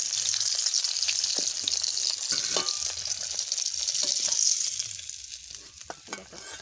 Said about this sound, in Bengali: মাছ কত সুন্দর ভাজা হয়ে গেছে